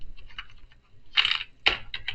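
Keys clack on a computer keyboard while C code is typed, a few scattered quiet taps followed by two louder bursts of keystrokes, close and with no voice over them.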